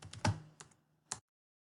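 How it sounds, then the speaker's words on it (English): A few quick keystrokes on a computer keyboard, a short burst of clicks followed by one last tap, then silence. "just press Control and F and type in the text that you're looking for"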